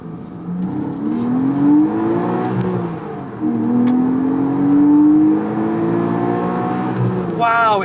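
A naturally aspirated Porsche engine, heard from inside the car, climbs through the revs in two long rising pulls, loud and close, with a person speaking over it.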